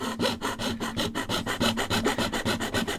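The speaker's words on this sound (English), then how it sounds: "I'm doing the sawing." Steady back-and-forth rasping of a hand saw cutting wood, rhythmic strokes repeating quickly and close by, with no voices.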